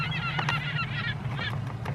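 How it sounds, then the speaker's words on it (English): Seagulls calling outdoors on a desert island beach, several harsh honking cries overlapping in quick succession over a steady background rumble, moderately loud with no talk. "Seagulls are out in force today."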